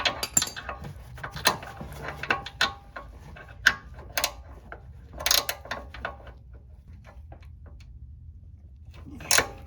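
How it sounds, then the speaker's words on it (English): Ratcheting clicks and metallic knocks from an 18 mm wrench loosening a tight bolt on the front lower control arm of a 2012 Audi Q5 2.0T, in irregular bursts with pauses between. "I'm gonna loosen up the bolt from here."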